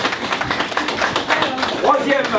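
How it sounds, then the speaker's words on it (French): Spectators at a motocross race podium ceremony in Loon-Plage clap steadily in a dense, fairly loud patter that lasts the whole moment, with voices mingling faintly underneath. "Je vous demande d'applaudir et d'accueillir Yentel Martens."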